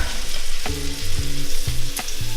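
Mushrooms cook in a pan with a loud, close, steady sizzle, punctuated by several sharp scrapes and stirs against the pan bottom. No one speaks.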